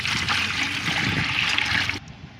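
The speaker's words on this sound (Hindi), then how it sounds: "तो मेरे पास ये 2 लीटर पानी है जिसको मैं इसमें डाल दूँगी" Rice water pours steadily into a plant pot, a continuous close splashing trickle that stops abruptly near the end.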